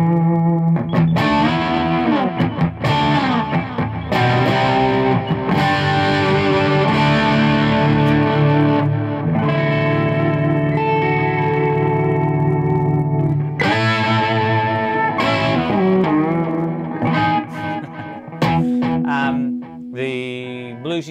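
An electric guitar played through a G2D Custom Overdrive pedal into a Supersonic amp, with sustained chords and melodic lines carrying a warm overdriven grit and some delay, loud and continuous, with no talk.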